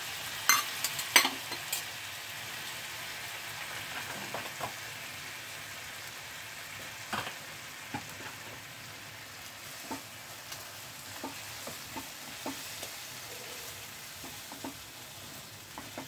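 Masala for paneer makhani, with chilli and cinnamon powder, gently sizzles in a pan as a splash of water goes in. The crackles and pops are faint and scattered, with soft stirring scrapes and no talk.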